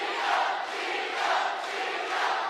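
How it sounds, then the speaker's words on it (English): Arena crowd at a women's MMA bout between Mei Yamaguchi and Gina Iniong chants a fighter's name in the closing seconds of round three, a dense, swelling roar that rises and falls in a steady rhythm. "Crowd coming to life, chanting Gina Iniong's name"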